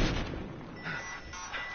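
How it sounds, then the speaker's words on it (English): Heavy gunfire in the video game Battlefield Hardline, a muffled, rumbling barrage of booming shots with a few louder bursts standing out, no voices present. "Taking heavy fire."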